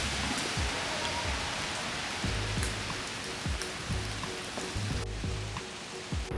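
Steady rain falling in a New York City cemetery, a constant hiss of drops on surfaces with occasional louder patters nearby, no voices.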